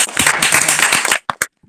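Online audience members clap through unmuted microphones after a career-guidance session, a dense burst of clapping for about a second followed by a few scattered, separate claps.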